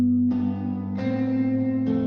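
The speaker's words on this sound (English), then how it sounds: "we also blended this with some MIDI electric guitar" A MIDI electric guitar plays alone, holding chords that shift three times, with a smooth, processed, synthetic-sounding tone and some echo.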